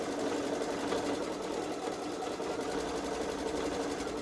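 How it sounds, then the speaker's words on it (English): A Baby Lock Solaris Vision sewing machine stitches a quilt sandwich edge to edge, giving a steady, fast mechanical whir with even needle rhythm, heard alone at moderate level. "I do like the way it's stitching out."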